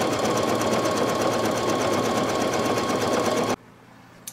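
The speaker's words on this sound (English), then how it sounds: "And now the final satin stitching for the dress, that's going to take 7 minutes." A Brother NQ3700D embroidery machine sews satin stitches on a dress design for a nativity table runner, a loud, steady, fast mechanical whir that stops abruptly near the end.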